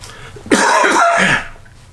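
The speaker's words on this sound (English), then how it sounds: "At the end of the night, I get this cough." A single harsh, close cough with a rough throaty rasp, lasting about a second before fading.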